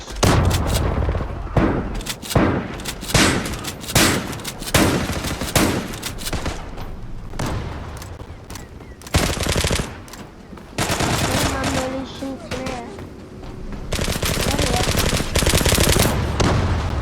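Video-game gunfire from a shotgun and an M9 pistol in Zula: loud repeated shots and rapid bursts, some dense stretches of continuous firing, with brief quieter gaps between volleys.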